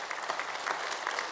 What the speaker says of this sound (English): I can clap for that.